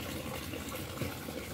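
Water flows from a bathroom in a continuous, even rush like a running tap or gushing stream, moderately close and unbroken, with no talking over it.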